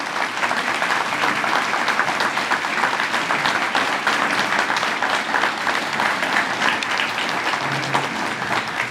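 Steady, dense applause from a seated audience at a Hall of Fame induction ceremony in Prescott, honoring the committee members, sustained and even for the whole stretch with no pauses.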